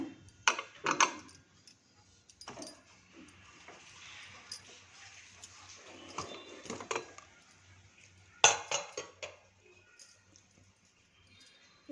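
Metal clanks and clicks from a pressure cooker lid being handled and opened, several sharp knocks and rattles scattered over about twelve seconds, close, with a voice speaking in between.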